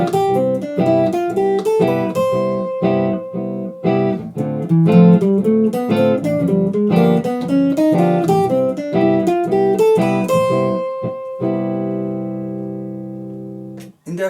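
Piano chords with altered tones on the dominant chord of a major 2-5-1 play in a steady rhythmic sequence of struck chords, ending on a long sustained chord that rings out.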